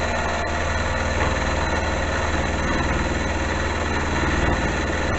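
Metal lathe turning steadily at about 1150 RPM with a new cutting tool, a continuous low motor hum and whine with light vibration, even and unbroken throughout, no talking.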